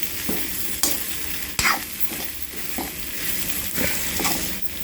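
Spiced potato samosa filling is stirred in a pan with a faint sizzle, and a spoon scrapes and knocks against the metal at irregular intervals. No one talks.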